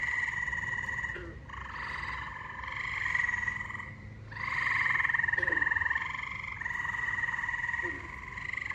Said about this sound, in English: Listen to the noise that the frogs are making.